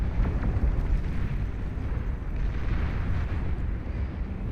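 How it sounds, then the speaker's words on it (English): Deep, continuous rumbling explosions roll together from a naval battle between battleships and other warships in the strategy game Beyond All Reason, dense and heavy without distinct gaps. "Massive naval clash over here."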